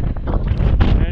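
Strong winter wind on the north shoreline of Lake Ontario in Burlington, during lake effect snow, buffeting the microphone in loud, uneven gusts, a close low rumble filling the whole moment.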